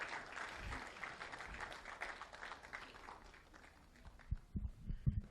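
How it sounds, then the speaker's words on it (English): An audience at a youth, peace and security conference in Nigeria keeps clapping in a faint, steady patter of applause from a crowd, ending in a few louder, closer claps. "Let's keep clapping until he gets here."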